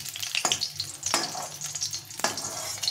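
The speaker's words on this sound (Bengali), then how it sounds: "তখন এর মধ্যে আমি পটলটা ভেজে নেব।" Pointed gourd frying in a little oil in a pan, a close, continuous crackling sizzle broken by a few sharp spatter bursts and stirring scrapes.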